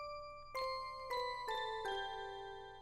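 A Music Box synth preset from Xenology plays four bright, bell-like chime notes in a slow descending sequence, each ringing out with a clean sustained tone over a steady faint background, alone without speech.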